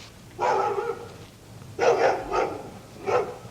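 A dog barks in three short bursts, close and fairly loud, with a pause between each, heard on its own with no talk over it.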